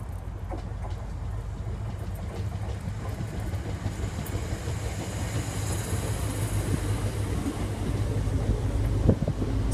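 A King's Cross-bound express runs through Peterborough station without stopping, a steady low rumble and roar that builds slightly over ten seconds, mixed with wind buffeting the microphone.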